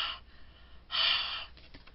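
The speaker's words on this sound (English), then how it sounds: "Huffing means you just blow on it to get some of your the air from your breath to reactivate the colors." Breath blown onto distress ink on paper to reactivate the colors, heard as a soft short puff followed after a pause by a longer, stronger airy huff, close to the microphone with no talk.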